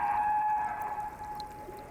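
Humpback whale song carries underwater as a sustained tonal moan holding a steady pitch, with faint higher whistles over a soft watery background, fading slightly toward the end.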